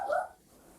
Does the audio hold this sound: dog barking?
yes